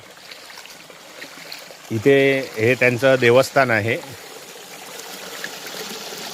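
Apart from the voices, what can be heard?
clear natural spring water flowing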